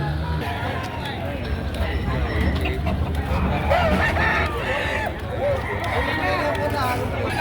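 Hens and roosters cluck and crow at a poultry market in Padre Garcia, Batangas, mixed with busy crowd noise while people talk close by throughout.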